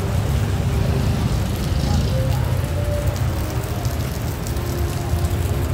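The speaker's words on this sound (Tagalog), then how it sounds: "patuloy na umuulan" Rain falls on a city street in Iloilo City, a dense, steady hiss of drops spread evenly across several seconds, with low traffic rumble beneath and no clear voices.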